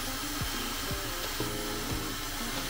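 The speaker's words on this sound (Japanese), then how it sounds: "この前髪の分け目を消すような感じでドライヤーしていく" A hair dryer blows on a fringe in a quick everyday hairstyling routine, a loud continuous roar that stays steady throughout, with brief rubbing and brushing strokes of hair passing close under the airflow.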